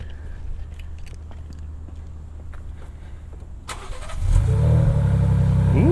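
A 2022 Ford Bronco Raptor engine cranks and fires after a quiet stretch, then settles into a loud, steady idle rumble, close by, with no talking over it.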